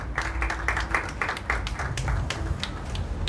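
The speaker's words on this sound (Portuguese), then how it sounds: "Uma salva de palmas." An audience claps steadily with brief taps of individual hands standing out, moderately close and continuous throughout.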